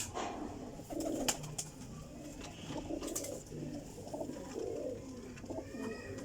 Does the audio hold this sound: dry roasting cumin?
no